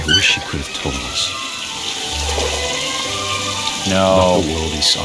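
Faucet water runs steadily in the video game What Remains of Edith Finch, a soft continuous hiss beneath a game character's speech.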